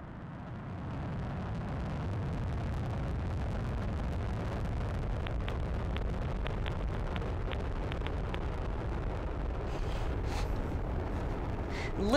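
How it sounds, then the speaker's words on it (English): An Atlas V rocket carrying twin spacecraft lifts off at launch, heard as a faint, distant, steady low roar that holds evenly and swells slightly at the end. "Lift off the Atlas V rocket and twin spacecraft on a mission to unlock the mysteries of Earth's Van Allen belts."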